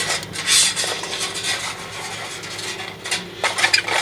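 A metal pot stand scrapes and rubs against the inside of a Toaks 900 cooking pot as it is set in, with a few close, sharp clinks and rasps.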